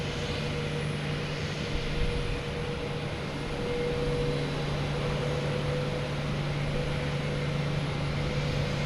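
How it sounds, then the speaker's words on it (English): Delta Airbus A321 airliner arriving over Boston Logan, a steady broadband jet roar with a constant low hum, fairly loud and sustained overhead with no voices. "Next to arrive is Delta, an A321 coming in from Atlanta. So another crazy airplane flying over our heads."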